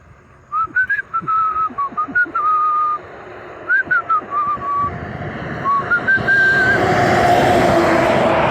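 A person whistles a wavering tune in short melodic phrases, clear and fairly close, over steady traffic noise that grows louder toward the end.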